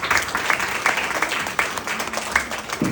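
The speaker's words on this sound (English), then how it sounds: "I think we must all give them a round of applause." Audience applause for children at a Thames Buddhist talk, a short burst of scattered clapping from a modest crowd, steady and close for the whole moment.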